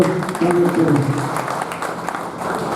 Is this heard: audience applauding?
yes